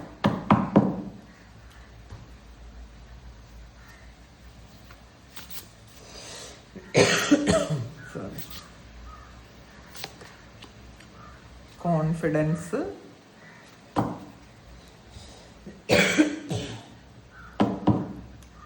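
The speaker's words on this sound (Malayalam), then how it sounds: "മഴ നനഞ്ഞത് കൊണ്ടാണ് കേട്ടോ എനിക്ക് കുറച്ച് ചുമയുണ്ട്" A person with a cough from being caught in the rain coughs in a few short, sharp bursts scattered between stretches of close, ongoing talk.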